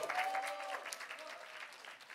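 A church congregation breaks into cheers and applause as one district group is called out, a dense wash of clapping with a brief raised voice early on, staying fairly steady and then thinning slightly toward the end.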